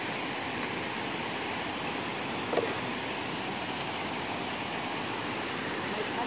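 Steady broadband rush of water pouring at Cambugahay Falls in Lazi, Siquijor, a constant even wash of falling water filling the scene throughout, with a brief faint knock partway through.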